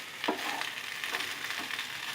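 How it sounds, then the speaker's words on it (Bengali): Radish greens frying and being stirred in a wok, a soft continuous sizzle with a few scraping stirs, fairly quiet and without talk. "নাড়বো, নেড়ে নেড়ে এটা যখন আস্তে আস্তে কড়াই থেকে উঠে আসবে ভাজা ভাজা হয়ে"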